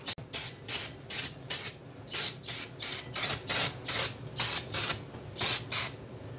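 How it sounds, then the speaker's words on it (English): Brake cleaner sprays onto the rear brakes of a 2003 BMW 525i in short, repeated hissing bursts, about fifteen quick blasts in a loose rhythm, close and moderately loud with no talking. "Right now I'm gonna put some brake cleaner right here."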